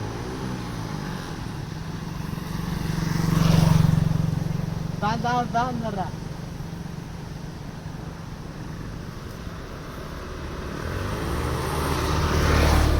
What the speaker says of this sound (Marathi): भाई आपला गाडी घेऊन येत आहे.